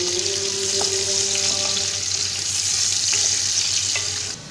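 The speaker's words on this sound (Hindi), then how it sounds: "प्याज को लाइट गोल्डन ब्राउन कलर होने तक फ्राई करेंगे।" Medium-sized onions, finely chopped for chicken kabsa, sizzle loudly in hot oil with a constant close frying hiss and a few light clinks of stirring.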